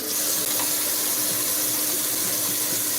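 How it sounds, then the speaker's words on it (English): Cold tap water runs steadily into a kitchen sink as fresh produce, including store-bought peppers, is rinsed; a continuous, fairly loud hiss of flowing water with no talking. "We just gonna rinse our produce with cold water."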